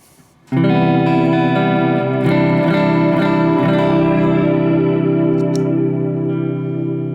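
Strymon Blue Sky reverb pedal in buffer mode, played through an amp: a sudden loud guitar chord blooms into a long, sustained reverb wash that rings on steadily without fading away.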